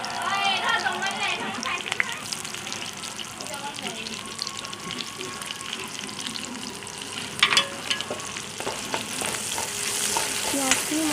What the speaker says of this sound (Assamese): এতিয়া মই পিঁয়াজখিনি দিছোঁ ইয়াতে।